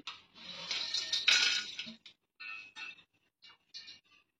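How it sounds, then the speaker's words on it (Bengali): Whole spices, including peppercorns, are dry-roasted and stirred in a pan, giving a close rattling scrape that comes in short bursts and gaps and grows fainter toward the end. "এবার মশলাগুলোকে ভেজে নিচ্ছি"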